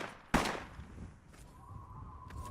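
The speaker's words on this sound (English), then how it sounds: "I heard gunshots. Who's shooting people and from where?" A single sharp gunshot cracks out from the Pitt in Fallout 3, loud and close, then fades into a low ambient hum with a faint tone and soft distant clatter.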